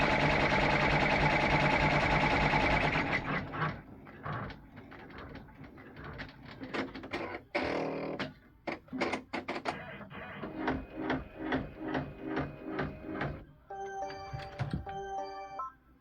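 An embroidery machine sews a tack-down stitch in thread for a Christmas egg ornament, a quick mechanical rattle of repeated needle strikes in short rhythmic bursts, heard close and fairly quiet after some louder noise at the start.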